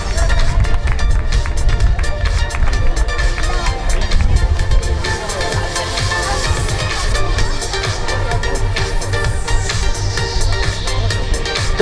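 Dense, steady applause from a crowd at a triathlon prize-giving ceremony in Saint Point, continuous clapping mixed with crowd babble and background noise throughout.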